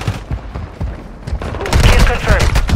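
Gunfire in a video game: scattered shots and thuds early on, swelling into louder rapid bursts of fire in the second half, with a voice talking over it.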